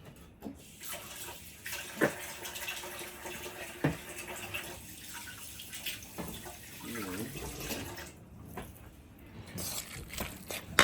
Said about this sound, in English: you gotta wash your spoon